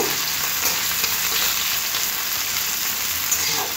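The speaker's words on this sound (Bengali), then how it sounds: "পেঁয়াজটা হালকা করে ভেজে নিচ্ছি, আর বেশি ভাজবো না।" Sliced onion frying in hot oil with whole garam masala for a pointed gourd masala curry, a continuous bright sizzle and crackle close up, steady throughout with no talk.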